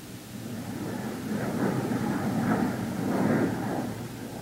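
A low, broad rumble of an airplane passing overhead, swelling slightly and holding steady, with no voices.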